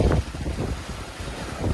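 Wind rushing over the microphone aboard a sailboat reaching in about 10 to 13 knots of breeze on the Mediterranean, a loud, gusty roar with low buffeting and no voices.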